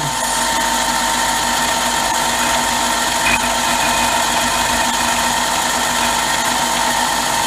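A Harbor Freight mini lathe turns at about 700 RPM while taking a hand-fed cut, giving a steady, loud motor whine with a constant tonal hum and no talking.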